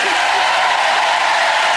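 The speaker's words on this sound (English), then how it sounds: "keep your applause going for Michael Underwood and Angelica" Studio audience at a Saturday night entertainment show applauding, a dense steady wash of clapping with some crowd noise, loud and continuous throughout.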